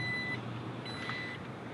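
Power liftgate warning chime on a 2018 Jeep Grand Cherokee Overland, two faint high electronic beeps separated by a short gap over a low background hum.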